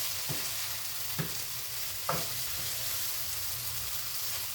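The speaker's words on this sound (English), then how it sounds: "those potatoes have began to cook. They're cooking good now" Potatoes frying in a pan for a breakfast casserole, with a steady soft sizzle and three brief scrapes of a stirring utensil against the pan, close and fairly quiet, with no talking.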